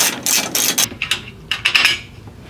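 A bolt is worked loose on a garage door rail bracket with a hand tool: a series of quick metallic ratcheting clicks in short bursts, close and fairly loud, with brief pauses.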